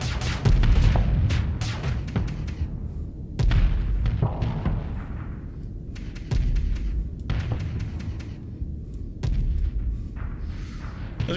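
A spaceship cannon in the space game Starsector fires repeatedly against a derelict aircraft carrier, with sharp booming shots at an uneven rhythm over a steady low rumble.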